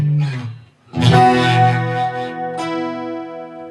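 Final chord of a song on acoustic guitar, a short picked figure followed by a bright ringing chord that sustains and is struck again near the end, loud and close with no talking.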